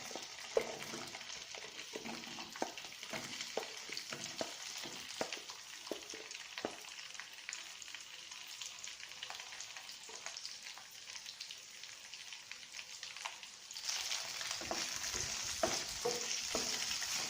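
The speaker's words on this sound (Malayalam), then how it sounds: "അരിഞ്ഞു വെച്ചിരിക്കുന്ന വെണ്ടയ്ക്ക ഇട്ട് കൊടുക്കണം" Chopped okra frying and being stirred in a hot pan for a Malayalam-style brinjal and lady's finger curry, giving a steady close sizzle with scraping stirs, growing louder and brighter near the end; no talking.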